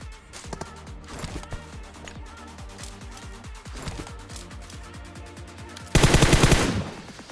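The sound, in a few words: gunfire in PUBG video game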